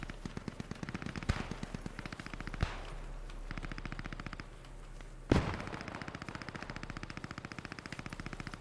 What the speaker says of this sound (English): Must be an automatic. Yes, it's the MG.